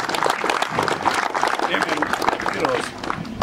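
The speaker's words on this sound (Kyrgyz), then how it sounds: "Kendinize жаштар кол чаап коелу." A crowd at a youth football event claps for the young players, a dense run of scattered claps under a person speaking.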